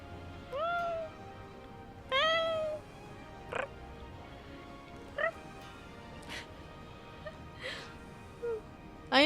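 A person imitates cat meows with their voice during a Final Fantasy XIV game session. Several close, fairly quiet mewing calls come in an irregular series, some drawn out and some short, with soft noises in between.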